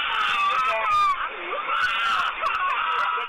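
A child screams loudly and continuously aboard a school bus during an assault on the driver, with high shrill cries filling the clip and other voices and commotion beneath.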